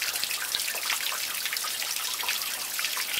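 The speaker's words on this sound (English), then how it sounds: "So we're flowing and we're dripping off the back." Water steadily dripping and trickling from a cowl leak on a Ford bus being converted into a skoolie, a dense, continuous patter of close drops with no voices.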